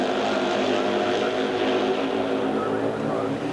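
Racing motorcycles on the San Jose dirt mile track at roughly 75 miles an hour in an AMA event, a loud, steady engine roar that holds without a break from start to finish.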